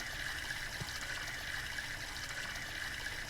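Water runs steadily from a tap as hands and face are washed, a continuous close trickle and splash with no talk.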